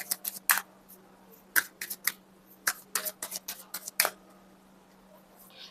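Tarot guidance cards are drawn from a deck, giving a run of sharp, close card flicks and snaps in irregular bursts over a quiet room hum.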